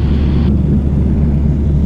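Piper PA28 Warrior light aircraft engine running at full power on the downwind leg of a circuit, a loud steady low drone filling the cabin without any talk.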